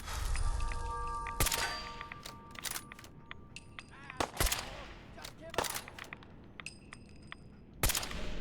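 Gunshots ring out in a shootout in the Fallout 4 video game, a series of sharp separate cracks spread over several seconds with quieter gaps and background noise between them.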